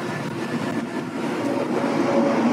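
An Espin Nesta folding fat-tire e-bike rides on throttle alone with its 750-watt motor, a steady rumbling drone of motor, tires and wind that swells slightly as it goes.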